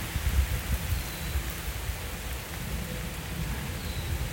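Steady rain pours down with a low, rolling rumble of thunder underneath, a constant soft hiss with no voices.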